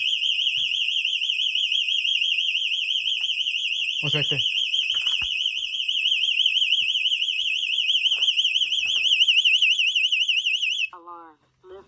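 A house alarm in an abandoned house blares a loud, rapidly warbling electronic siren for about eleven seconds before cutting off, with people talking over it and some knocks in the background.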